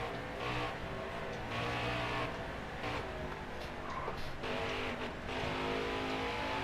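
Race car engine in NASCAR Heat 4 at Watkins Glen, revving hard with a brief dip as the driver brakes to point the nose, then throttle rising again; a steady, loud, continuous engine drone throughout.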